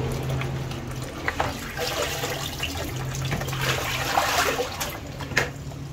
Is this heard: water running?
yes